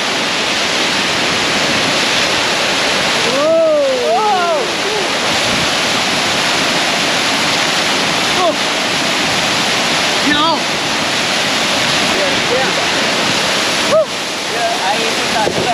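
Steady roar of a jungle waterfall at Pos Beswok pours continuously and loudly, with a few short bird or voice chirps poking through around the middle and near the end.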